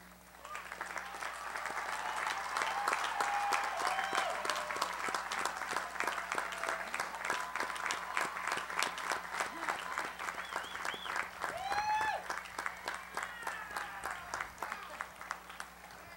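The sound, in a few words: commencement audience applauding honors graduates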